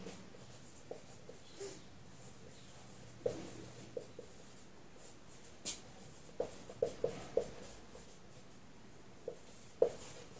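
A pen writes out a physics equation for a driven simple harmonic oscillator, heard as faint scratching with sharper taps and strokes scattered irregularly across a quiet background and no speech.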